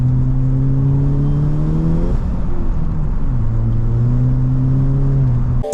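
Volkswagen GTI engine revving in Mexico, a steady loud drone that climbs in pitch, dips as it shifts, then climbs again before cutting off with a sharp thump at the end.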